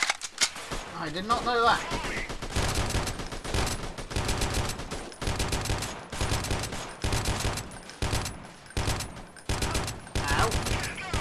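Sustained bursts of automatic gunfire from the guerrilla warfare video game Freeman: Guerrilla Warfare, loud repeated volleys with short gaps, and someone talking over the opening seconds.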